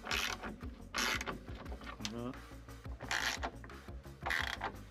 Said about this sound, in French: défaire complètement les deux écrous